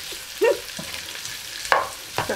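Spicy miki noodles guisado being sautéed in a pan, with faint sizzling under a few quick clanks and scrapes of a utensil stirring the noodles, close and fairly quiet.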